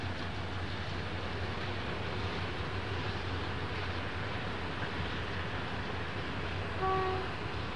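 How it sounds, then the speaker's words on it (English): A train backs out of Baddow station in Queensland onto the main line, a brake van behind its locomotive, giving a steady low mechanical rumble with a faint brief whistle-like tone near the end. "where the train pulls into the station, then has to back out again onto the main line"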